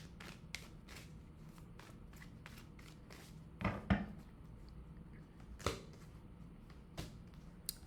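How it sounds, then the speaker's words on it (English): A tarot deck being shuffled and cards pulled, heard as soft, quiet riffling flicks and snaps in an irregular series, with a few sharper slaps of cards set down. "I'm going to pull some more cards"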